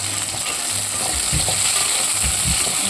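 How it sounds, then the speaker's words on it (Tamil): Sliced onions sauté over a medium flame in a pan for a lentil dumpling curry, giving off a steady, close, broadband sizzle with soft stirring scrapes underneath; no one speaks. "வெங்காயத்தை நல்லா வதக்கிக்கிறோம்"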